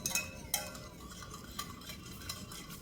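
Slaked lime being stirred into water in a vessel with a utensil while making Agra petha, white pumpkin sweet, a soft steady swishing with a few sharp clinks of the utensil against the container.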